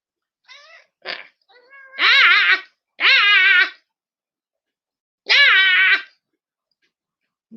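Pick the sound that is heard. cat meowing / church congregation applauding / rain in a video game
cat meowing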